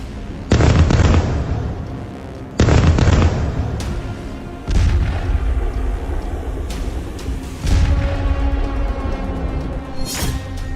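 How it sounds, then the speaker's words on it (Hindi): Russian D-30 howitzer artillery firing in Zaporizhzhia: several loud, heavy booms spaced a couple of seconds apart, each followed by a long rolling echo, heard outdoors without talk. "ज़ापोरोज़े में रूसी D-30 होइत्ज़र से तबाही।"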